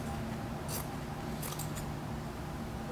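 Scissors snip quickly through excess upholstery fabric on an antique dining chair seat, a few short crisp cuts standing out close against a steady background hiss, with no talk.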